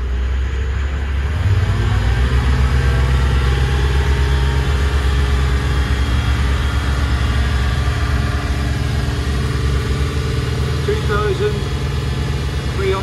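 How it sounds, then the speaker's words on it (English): Twin Volvo Penta KAD300 marine diesels, 285 hp each, on a Birchwood 370 Commando boat, with the starboard engine revved up: a loud, steady low rumble that rises and holds, with a voice briefly over it. "now we want to repeat the process on the starboard engine and see does she do the same."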